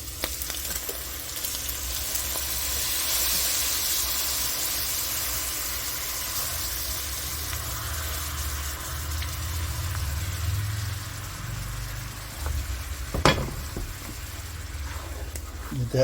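Heavy cream sizzling as it is stirred into a hot pan of hamburgers for a bacon gravy, a steady soft frying hiss with low rumbling underneath and one sharp clink near the end.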